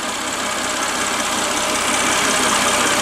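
A vehicle engine runs steadily before setting off, a close, loud, even broadband rumble with a slight knocking texture and no change in pitch, and no voices.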